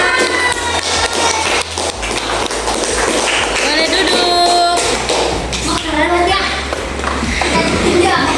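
Schoolchildren in a classroom clapping after a group presentation, with scattered taps and thumps, kids chattering, and a teacher's voice speaking over the noise.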